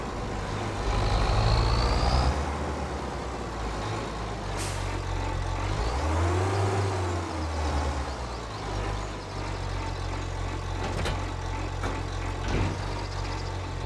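A large tractor engine in Farming Simulator 25 rumbles steadily and close, with a low drone that swells and dips, and a brief hiss like an air brake near the start.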